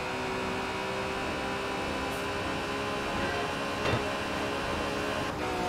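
A tram rolls past in Forza Horizon 4, a steady rumbling rail drone with a hum layered throughout and a brief louder clank near the middle, heard alone with no talk.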